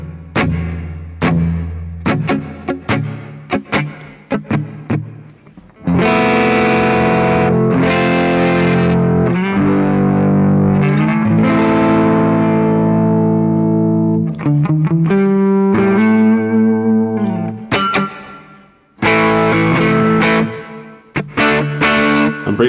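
Electric guitar played through Blue Cat Axiom software with room reverb, loud and distorted: choppy staccato hits, then long sustained ringing chords with reverb tails, and sharp stabs returning at the end.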